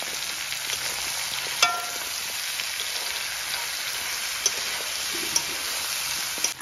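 Chicken with cumin and salt fries in a pan, giving a soft, steady sizzle with a few light clicks and taps from stirring, quiet and without voices.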